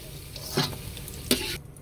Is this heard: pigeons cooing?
no